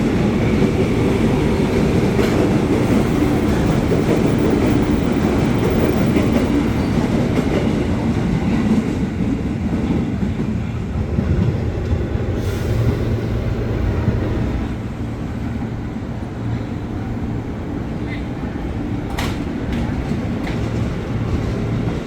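KRL commuter train departing from Duri station, a loud continuous rumble of rolling wheels and rail clatter that gradually eases in level, with faint squeals near the end.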